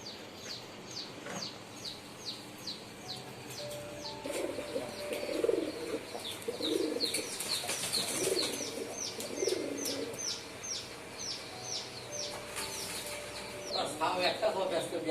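Pigeons coo repeatedly in soft, low, rolling calls, with brief chirps from other birds and faint voices talking in the background.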